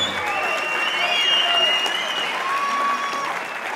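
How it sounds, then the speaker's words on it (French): A boxing gala crowd applauds a boxer being introduced to the ring: steady, sustained clapping throughout, with crowd noise and a few high whistle-like tones above it. "Vous allez applaudir Anthony Tiga Offray."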